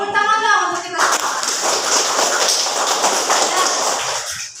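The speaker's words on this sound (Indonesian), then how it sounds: "Tepuk tangan dong untuk kita semua." Class of pupils bursting into loud, dense hand clapping right after a brief spoken cue from the teacher, a sustained close round of applause that tapers off at the end.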